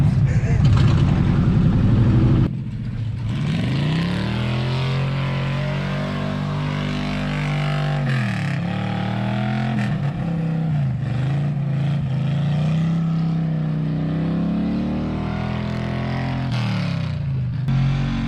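A 1966 Chevrolet C10 pickup truck, long abandoned, drives through a brush pile, its engine droning and rising in pitch as it is held at high revs, with a loud burst at the start and people talking over it.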